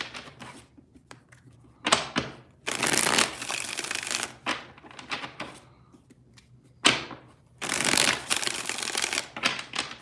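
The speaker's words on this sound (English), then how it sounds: "Three shuffles here, three more." Tarot cards are shuffled in several bursts, each a crisp riffle of flicking cards with short sharp knocks and taps between, close and clear with no talking.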